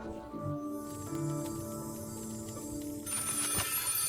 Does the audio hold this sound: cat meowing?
no